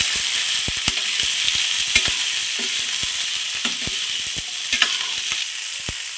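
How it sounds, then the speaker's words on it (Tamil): Small onions sauté in sesame oil for a spinach-style green gravy, giving a steady close sizzle broken by frequent sharp clicks and scrapes of a spoon stirring against the pan. "அந்த சின்ன வெங்காயமாக ஆட் பண்ணிக்கோங்க நல்லா வதங்கட்டும் எண்ணெயில்"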